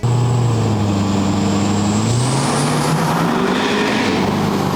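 A 725-horsepower 6.7L Powerstroke diesel truck roars steadily and loudly up close, its deep engine drone rising and shifting in pitch as it revs after a long highway drive.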